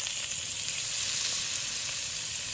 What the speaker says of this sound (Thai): อันดับแรกนะครับเราจะย่างในส่วนหนังนะครับ